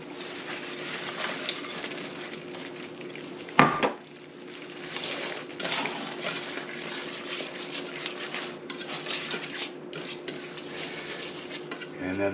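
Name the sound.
peas and asparagus added to bacon grease in pan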